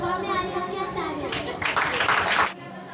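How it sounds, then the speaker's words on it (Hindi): Children clap their hands at a school Independence Day programme, a short, lively burst of mixed claps that follows a voice and fades out quickly. "जोर से ताली बजाओ यारो"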